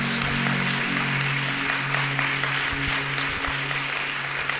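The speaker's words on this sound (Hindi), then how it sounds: "जोरदार तालियां यीशु मसीह के लिए" A church congregation gives strong applause for Jesus Christ, with many hands clapping in a continuous, fairly loud wash and a faint voice and sustained tones underneath.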